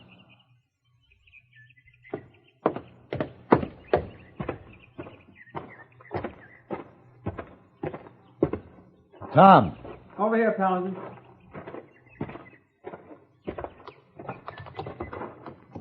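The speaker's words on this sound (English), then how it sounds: "Saddling your horse." Horse hooves clop steadily at a walk in a 1959 radio western, a run of sharp, close knocks, before a man calls out and a brief exchange of speech follows.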